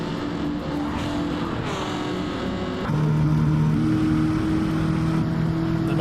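Race car engines in a sim racing video game, the number 972 and number 10 cars running close together in a Rover series race, a steady sustained drone of engine tones that grows louder about halfway through.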